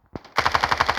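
Automatic gunfire in the mobile shooter game Standoff 2: one sharp shot, then a rapid, evenly spaced burst of about eight loud, close rounds with no talk.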